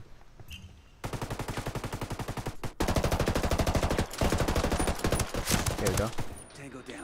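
Automatic gunfire in Ghost Recon Wildlands rattles in long, rapid, evenly spaced bursts, loud and close, with a brief pause before a second sustained volley and faint talk at the edges.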